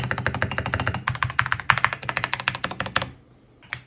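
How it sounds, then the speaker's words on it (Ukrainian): Rapid, close-up typing on an Epomaker EK68 gasket-mount mechanical keyboard, with a dense run of crisp keystrokes that stops abruptly near the end, leaving one lone tap. "Gasket Mount конструкція забезпечує м'яке, амортизоване звучання та чіткий тактильний відгук під час активації клавіш"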